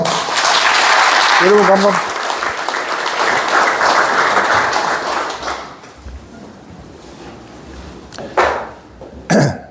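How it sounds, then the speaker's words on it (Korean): An audience at a book launch event applauds to welcome the author, a broad wash of clapping that fills most of the clip before thinning out, with someone speaking briefly over it and a few louder close claps near the end. "큰 박수로 모시겠습니다"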